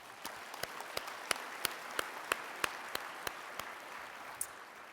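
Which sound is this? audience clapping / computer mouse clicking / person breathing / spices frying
audience clapping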